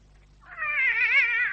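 A cat gives a single drawn-out meow that rises in and swells, loud and close, with nothing else around it.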